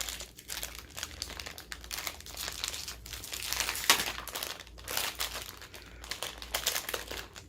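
Plastic toy packaging being torn and crinkled open with teeth, a close, continuous rustling and crackling with irregular louder rips, no talking.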